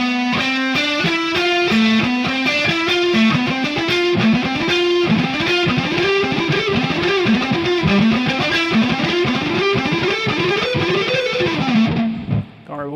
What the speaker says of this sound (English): So that's the economy picking. It'll sound like this.